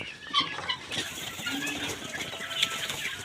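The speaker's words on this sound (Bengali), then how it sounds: "এই যে দেখুন আমার বাচ্চা কোয়েল পাখিগুলো" Young quail chicks, seventeen days old, stirring in a cage, giving a close, busy patter of rustling and light wing flutters with faint chirps scattered through, no voices.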